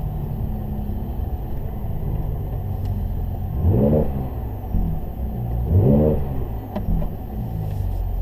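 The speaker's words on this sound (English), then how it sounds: "now he's going to stop again and give it two more bigger revs" A 2019 Mercedes-AMG C43 engine revs twice, each burst swelling and falling away over a steady idling rumble, fairly close with no talking.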